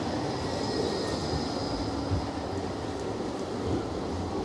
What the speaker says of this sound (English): The Blackpool trams are always running.